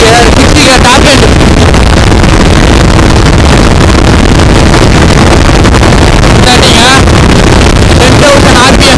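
A KTM Duke 200 motorcycle runs at high speed in fifth gear toward its top end near 10,000 RPM, engine drone loud and constant under heavy wind buffeting, with a rider speaking at moments.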